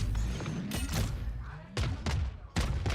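Gunfire and impact sounds from a Valorant esports match come in short, sharp bursts layered over game noise, with a few heavy thumps spaced across the moment.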